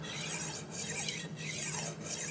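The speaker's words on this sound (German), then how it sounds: "Ich gehe mit der Schleifscheibe dran entlang und schleife einfach hin und her." A Horl 2 roll sharpener's grinding disc rolls back and forth along a knife blade, giving a steady close-up rasping grind with brief dips at each change of direction.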